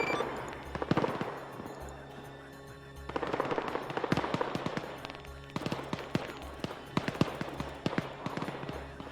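Aircraft gun fire during a strafing run in a military video game, rapid bursts of crackling shots in several long volleys, close and loud, with brief quieter gaps between bursts.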